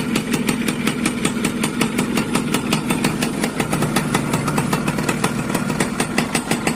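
A 2002 Yamaha F1ZR two-stroke motorcycle engine runs steadily at idle, close and loud, with a rapid, even popping rhythm and no talk.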